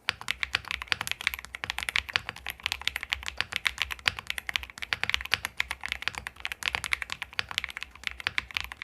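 Steady, brisk typing on an MXRSKEY CK650 aluminum mechanical keyboard kit fitted with SA-profile retro keycaps, rendered as dense, crisp, close-up clacks in a continuous rhythm with no voices.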